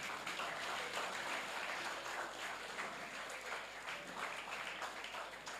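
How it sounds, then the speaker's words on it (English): An audience at a secondary schools workshop claps steadily to welcome a speaker, a dense, even round of applause heard at a distance throughout. "Can we keep clapping till she comes?"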